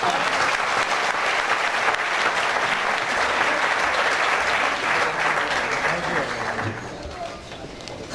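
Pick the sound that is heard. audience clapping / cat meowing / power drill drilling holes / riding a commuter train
audience clapping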